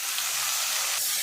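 Tomatoes sautéing in a pan with dried red chillies in oil, a steady close sizzle and hiss that stays even for the whole stretch, with no voices.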